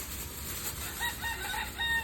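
A rooster crows and chickens cluck outdoors on a rural harvest outing, the calls fairly faint against a broad background hiss.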